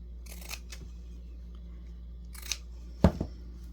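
Scissors snipping a decorative strip of fabric: a few quiet, crisp cuts spaced over several seconds, the last one the sharpest, in an otherwise still room.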